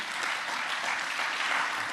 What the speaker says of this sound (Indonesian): Berikan tepuk tangan bagi Tuhan, firman Tuhan ini.